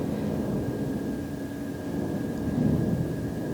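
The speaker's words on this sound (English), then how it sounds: "I think that's an aeroplane. Let's just wait for it up until it passes." A steady low roar of an aeroplane droning overhead, broad and rumbling, swelling slightly near the end with no voices.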